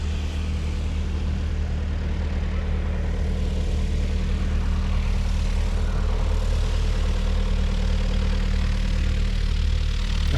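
Aircraft engines run steadily at Saint-Auban airfield as planes sit in the takeoff queue, likely including Robin DR400 tow planes; a loud, continuous low drone holds throughout with no talk.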